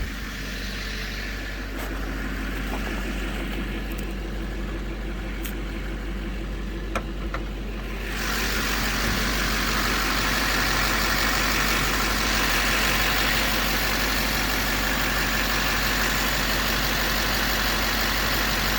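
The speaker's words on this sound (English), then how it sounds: "The truck was running about 85 dB, idling." A diesel truck engine idles in a steady, even low rumble, loud and close, with the sound growing broader and louder partway through and no talking.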